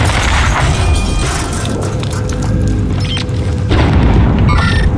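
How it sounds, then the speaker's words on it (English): A grenade goes off in Call of Duty Warzone: a loud, close boom with crashing debris under constant battlefield noise, and a second heavy surge near the end. "Throwing grenade."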